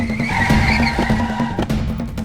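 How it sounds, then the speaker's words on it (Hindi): A car brakes hard to a sudden stop beside a woman on a street near an auto-rickshaw stand, with a loud continuous tyre screech and engine noise, close and dominant, with no speech. "अचानक एक कार उसके पास आकर रुकी।"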